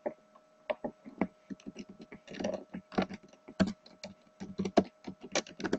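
A computer keyboard clatters under quick, uneven typing as a folder name is entered, a close string of light clicking keystrokes with brief pauses between bursts and no talk.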